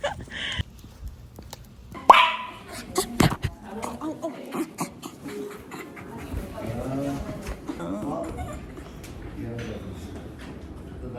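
An excited small dog gives sharp, scattered barks and yips around an indoor setting. The barks are mixed in with nearby talk and household movement.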